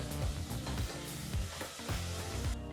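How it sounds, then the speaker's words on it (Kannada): Spice powders and yogurt fry in hot oil for aloo biryani, a dense, continuous sizzle close by, broken by the soft rhythmic scrape of stirring. "ಸರಿಸುಮಾರು ಒಂದು ನಿಮಿಷಗಳ ಕಾಲ ಇದನ್ನೆಲ್ಲ ಫ್ರೈ ಮಾಡ್ಕೋಬೇಕಾಗತ್ತೆ"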